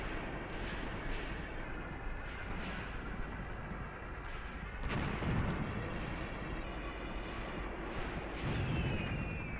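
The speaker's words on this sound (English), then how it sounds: "that's Russian mortars" Russian mortar fire in the video game Graviteam Tactics, set around Kharkov in 1942: a string of distant, muffled booms and rumbling impacts at irregular intervals over a low continuous battlefield rumble, fairly faint overall.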